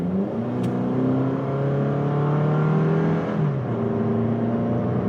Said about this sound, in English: Can hear the engine though